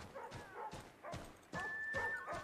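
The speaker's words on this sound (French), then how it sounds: "Mais tais-toi, cheval!" A horse in Assassin's Creed III gives a few short, faint snorting whinnies with clopping between them, no talk.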